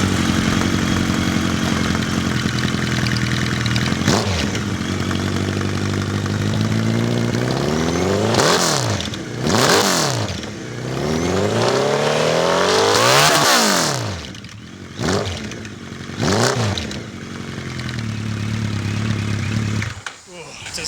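A Suzuki GSX1400 muscle bike's big inline-four engine idling nearby, then revved in several sharp throttle blips that rise and fall, with a deep, loud exhaust note settling back to idle between bursts.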